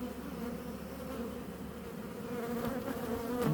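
Honey bees buzz around open hives during an April honey flow in the Vienne, making a steady, fairly faint hum that swells slightly toward the end.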